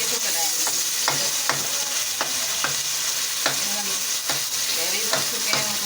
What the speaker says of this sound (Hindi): अब इसे पकाएं अच्छी तरह से। बैगन इसमें बिल्कुल मसाले के अंदर ऐड हो जाए।